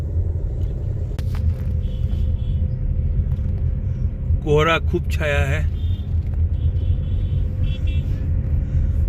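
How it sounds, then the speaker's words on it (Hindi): A car drives a foggy mountain road from Munsiyari toward Bageshwar, its engine and road noise forming a low, steady rumble from inside the cabin as passengers talk briefly over it. "गाड़ी चल चुकी है।"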